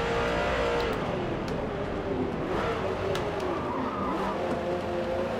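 A Ford GT Mk1 roars in Forza Motorsport 2023 with a loud, sustained engine note that rises and falls through gear changes, and squealing tires slide underneath it.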